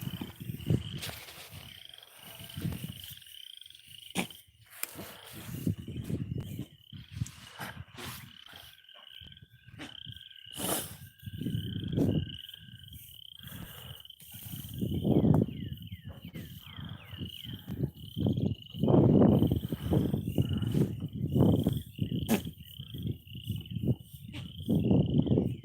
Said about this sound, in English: You guys hear all the frogs?